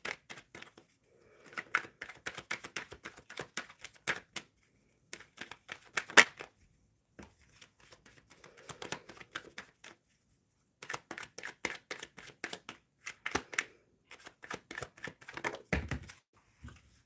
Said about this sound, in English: Shuffling for Jazz.